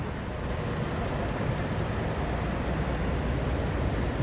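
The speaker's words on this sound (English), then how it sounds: "Oh, it is raining, isn't it?" Steady rain falls at the Port of Southampton as cruise ships depart, a dense, even hiss of drops that stays loud and unbroken for the whole stretch with no voices.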